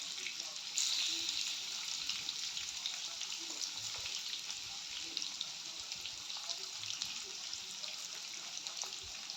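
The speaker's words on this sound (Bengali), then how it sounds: "আপনাদের ঠিক এইভাবেই কাঁঠালগুলোকে ভেজে নিতে হবে" Jackfruit pieces frying in a pan of hot oil for a mustard jackfruit curry, a steady loud sizzle with crackling throughout, a brief surge near the start.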